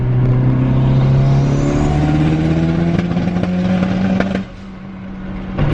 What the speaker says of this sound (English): Is that spark blowout? Yeah, it's still blowing out spark.